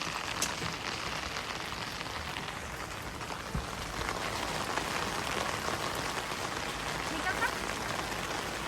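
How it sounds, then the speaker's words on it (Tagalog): Steady rain falls on a surface on a wet day in Japan, a dense, even hiss with scattered drops that continues throughout at moderate level, with a voice briefly speaking over it. "It's raining today."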